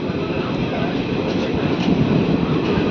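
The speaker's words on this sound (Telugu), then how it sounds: "బండారుపల్లి నుంచి మన ట్రైన్ బయలుదేరిపోయింది." A Machерla–Guntur passenger train pulls out of Bandarupalli station, heard from inside the coach as a steady, loud rumble of wheels and carriage noise.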